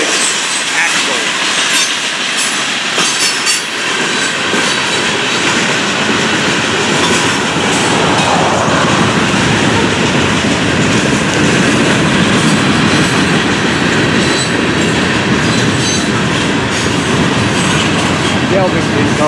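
Florida East Coast freight train of loaded rock hopper cars rolling past close by, a loud sustained roar of wheels with rhythmic clickety-clack and occasional metallic squeal.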